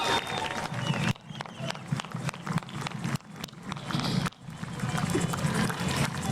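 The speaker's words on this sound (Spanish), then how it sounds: "Así que un aplauso a todos los colectivos." Crowd applause at an outdoor popular-culture parade honouring community collectives, a dense steady clapping that runs throughout with brief dips, loud and close.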